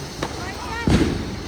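A Diwali firecracker bomb goes off once at close range with a sharp, loud burst, after some faint crackling. Voices are heard around it.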